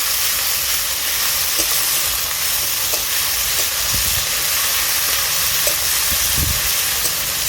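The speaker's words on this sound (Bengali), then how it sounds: "মশলাটাকে বেশ ভালো করে এবার আমি কষতে থাকবো" Masala with chopped tomato and ginger paste frying in a pan, a loud, steady sizzling hiss throughout with occasional low knocks and scrapes from stirring.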